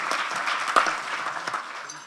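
Moderate audience clapping at a congress on refugees and the German economy, a steady patter of hands with one sharper clap, thinning out slightly at the end.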